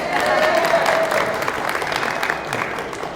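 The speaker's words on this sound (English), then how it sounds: "The microphone got more of an applause than I." Audience applause in a hall during a convention talk, a dense wash of clapping that fades gradually, with a few voices faintly audible underneath.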